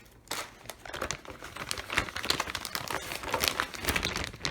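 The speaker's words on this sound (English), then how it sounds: "We're going to crumble these cookies up." Cookies crushed by hand inside a zipper plastic bag, a dense run of crinkling and crackling plastic that keeps going without pause, close to the microphone.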